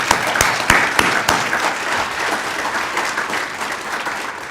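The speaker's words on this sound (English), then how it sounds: "can we get one more clap up or standing ovation?" Applause at a staff awards ceremony, with a crowd clapping densely and steadily throughout as part of a standing ovation for the employees, a few sharper claps standing out near the start.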